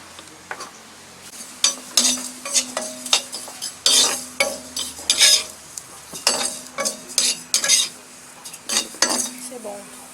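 Whole spices dry-roasting in a hot pan for a Mauritian briani, with repeated loud scraping and clinking stirring strokes over a faint sizzle, irregular bursts across about ten seconds.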